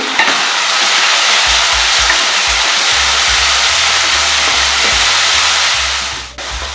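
A steady loud sizzle of onions sautéing in a pan, with occasional low stirring knocks underneath, continuing throughout.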